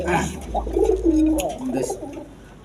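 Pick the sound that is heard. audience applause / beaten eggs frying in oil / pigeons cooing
pigeons cooing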